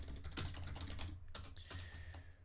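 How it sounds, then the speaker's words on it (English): Typing on a computer keyboard while writing a note in a notes app: a close, steady run of quick plastic key clicks with a few louder taps, heard alone. "So I can type into it."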